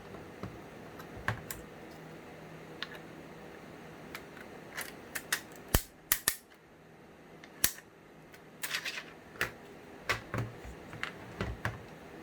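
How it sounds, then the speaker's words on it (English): Ratcheting loading key turning the star-shaped follower of a drum magazine, giving a series of sharp, close mechanical clicks in uneven bursts against a quiet background, with no talking. "there's a loading key that ratchets and holds the star-shaped follower as you turn"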